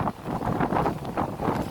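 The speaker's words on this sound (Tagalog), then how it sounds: "Kusog hangin, bawod," Strong wind and waves batter a ship at anchor in bad weather off a Bahrain beach, the noise swelling and falling in close, buffeting gusts, with no speech.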